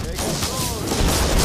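Gunfire and booming blasts from the video game Just Cause 3 come as a dense, loud volley across the short moment, mixed with a voice.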